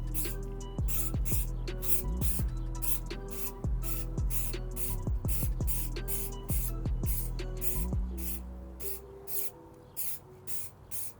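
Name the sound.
spraying Reshoevn8r water and stain repellent on sneakers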